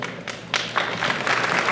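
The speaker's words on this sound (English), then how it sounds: "That was a slow, confused clap." Sparse, hesitant clapping from a convention panel audience, a few scattered claps building slowly into thin applause, fairly near and unenthusiastic.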